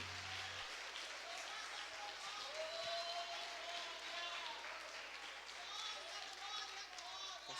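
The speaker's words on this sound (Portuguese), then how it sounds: "As palmas louvem ao Senhor." A church congregation claps in a continuous, even wash of applause that stays moderate in level, with voices calling out and talking over it.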